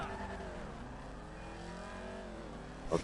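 A car engine revs in GTA 5 Online, a steady mid-pitched drone with rising and falling harmonics for a few seconds, then a short burst of noise at the end.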